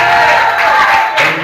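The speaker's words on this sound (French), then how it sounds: "Une acclamation au Seigneur." A church congregation bursts into brief, dense applause, loud and close, a short wash of clapping that fills the space.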